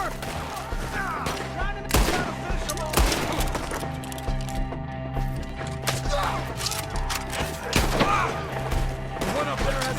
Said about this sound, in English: Shoot the ones up there first!